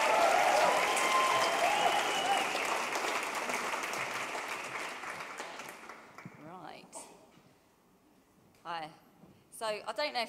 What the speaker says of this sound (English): can you please have a massive round of applause for the brilliantly talented Sabrina